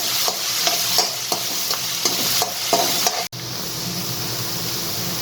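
Ground ginger, chili and garlic paste stirred in a hot pan, a close sizzle under quick, rhythmic spatula scrapes for about three seconds, then a brief cut before the frying settles into a steadier hiss.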